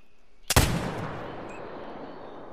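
A single loud rifle shot fired at a bull in a New England mountain hunting video game, a sharp crack followed by a long rolling echo that fades slowly into quiet.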